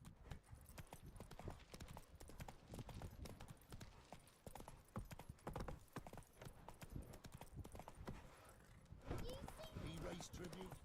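Roach, a horse in the video game The Witcher 3, trots with steady, rhythmic clip-clop hoofbeats, close and prominent across the whole stretch, with game ambience beneath and a louder burst of hooves near the end.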